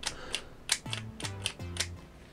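Spring-loaded eye action feature on a Masters of the Universe Origins Mantenna figure, giving several small plastic clicks and snaps in quick succession, close and fairly quiet, with no talk.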